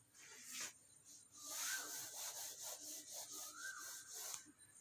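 Board being rubbed clean in a classroom: faint, rhythmic swishing and rubbing strokes, continuous for several seconds, quiet and a little distant, without speech.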